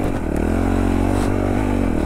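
A 2021 Honda CRF450RL dirt bike engine runs steadily and loudly up close, with a throaty low drone and a slight rev rise near the middle, with no voices over it.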